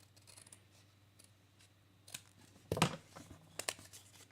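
Scissors trimming paper for a crafted box, quiet close snips and crisp cutting strokes building toward the end, with faint handling rustles between cuts.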